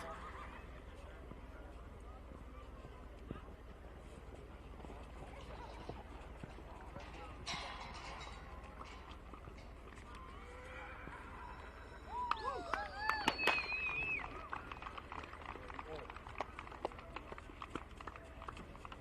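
Horse at a campdraft competition, with whinnies and galloping hoofbeats audible at a distance in a noisy outdoor arena, growing more active toward the end.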